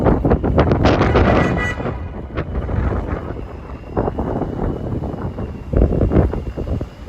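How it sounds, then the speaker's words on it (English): Strong wind gusts buffet a microphone outdoors in Manhattan, New York City, loud, uneven rumbling bursts that rise and fall through the whole stretch. "Man, it is windy out though"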